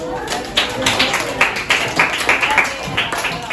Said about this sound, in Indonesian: Ya, tepuk tangan, Bos.